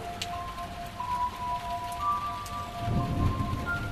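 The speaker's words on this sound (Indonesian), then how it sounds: "hujan sedang turun." Rain pours steadily with low thunder rumbling in, a radio drama sound effect, continuous and fairly loud with no voices over it.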